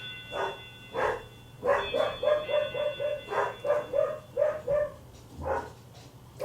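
A dog barks repeatedly in a steady run of sharp, fairly close barks, mixed with a few higher yips, over a faint electrical hum.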